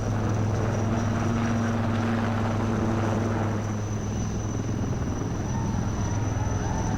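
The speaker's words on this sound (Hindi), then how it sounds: "हिंदुस्तान एरोनॉटिक्स लिमिटेड द्वारा निर्मित ध्रुव हेलीकॉप्टर का प्रयोग करके बाकी के स्पेशल फोर्सेस दुश्मन के एरिया में आ रहे हैं" A HAL Dhruv helicopter built by Hindustan Aeronautics Limited, carrying special forces, drones steadily and loudly throughout with a constant rotor and engine hum and no pauses.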